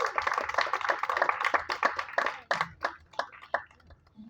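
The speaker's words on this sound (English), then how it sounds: "give her a big round of applause" A small audience at a live event bursts into close, brisk hand clapping that thins out into scattered, separate claps over a few seconds, with no voices over it.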